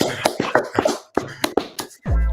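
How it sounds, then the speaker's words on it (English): A slow hand clap on a basketball podcast, a handful of separate, evenly spaced claps close to the mic, ending in a brief burst of noise. "Let's clap him up. Slow clap."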